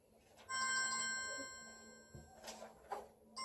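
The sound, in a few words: phone ringtone ringing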